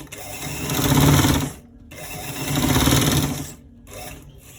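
A sewing machine runs in two long bursts of rapid stitching on a V-neck inner pocket, with a short pause between them and a brief start at the end, close and fairly loud with no talk.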